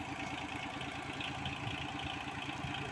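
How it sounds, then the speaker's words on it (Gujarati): A tractor engine on a chilli farm idles in a low, steady chugging rumble with a regular rhythmic pulse, fairly faint and continuous. "હવે ટ્રેક્ટર લઈને ઢેગલા કાઢી છે."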